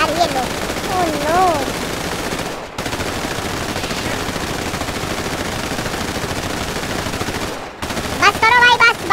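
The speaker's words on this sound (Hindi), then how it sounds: "पर फायरिंग खत्म हो जाए जब तक हम फायरिंग के मजे उठाओ" Rapid bursts of automatic gunfire ring out in a GTA 5 game scene during a funeral gun salute, sustained loud firing with two brief gaps, under voices talking.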